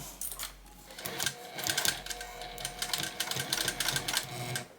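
Sewing machine running over a bag to restitch skipped stitches, a close, loud mechanical whir in several short bursts with brief pauses between them.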